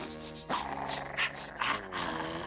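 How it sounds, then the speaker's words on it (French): Cartoon dog Poupi, the Smurfs' pet, growls and grumbles with a harmonic, voiced rasp, rising in bursts over a steady background, with louder surges partway through; the growl sounds performed by a voice. "c'est le chien des Schtroumpfs gentils, Poupi."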